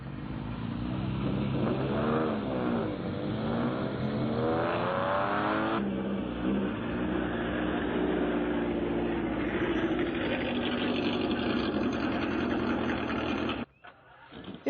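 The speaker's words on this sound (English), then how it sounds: "The Ferrari Club was delighted to have a go at the track." Ferrari sports cars, ranging from a 1958 Testarossa to recent models, lap the Jefferson Circuit, a 2.1-mile seven-turn racetrack, with a loud, sustained engine roar and rising and falling revs that stop abruptly near the end.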